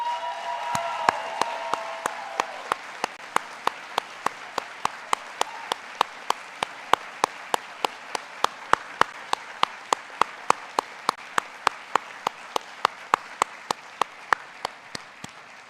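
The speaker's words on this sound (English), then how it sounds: "Let's give them another round of applause." Sustained applause from an audience at a medical school white coat ceremony in a hall, dense steady clapping throughout with a few sharp individual claps standing out near the microphone.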